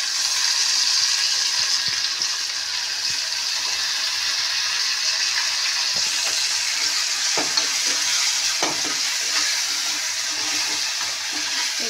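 Grated onion, garlic, ginger, green chilli and tomato frying in oil for a prawn malai curry, a loud, steady sizzle heard up close with occasional faint spatula knocks.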